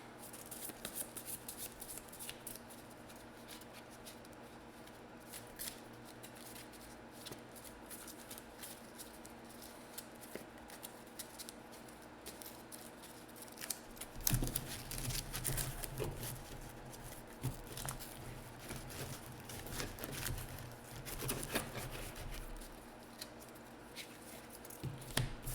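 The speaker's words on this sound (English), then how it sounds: "Shuffle our heroes and deal them out." Playing cards from a Legendary deckbuilding game are shuffled in quiet, soft riffling bursts, loudest in the second half, with small handling sounds between.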